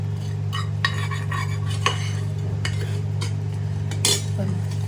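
Freshly roasted ingredients are scraped and tipped from a pan onto a plate, giving a series of scraping, rattling and clinking bursts of metal and utensil against a steady low background hum.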